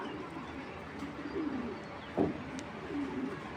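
Light-coloured racer pigeons coo softly in a few low, throaty phrases against a faint background hum, with one brief sharper sound in the middle.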